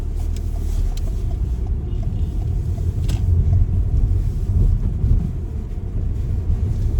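A car pulls away and accelerates along a suburban driving test route in Raheny, its steady engine rumble and road noise rising slightly and holding loud and close throughout.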